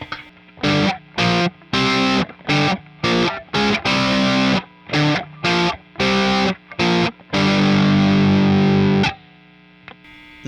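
Electric guitar with distortion plays a riff, plucked with the fingers rather than a pick: short, thick chord stabs in a choppy rhythm with brief gaps, ending on a longer held chord, loud and close.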